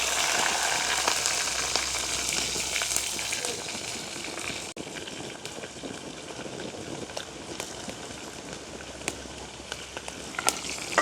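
Green chillies fry in hot oil in a pan, giving a broad, continuous sizzle with scattered pops and light utensil scrapes, heard close and fairly loud in an outdoor village kitchen.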